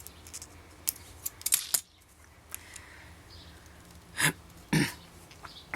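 Scissors snip beading thread at close range while a Swarovski crystal choker is being made, giving a few quick metallic clicks, a short cluster near the start and two sharper snips later, with no talk.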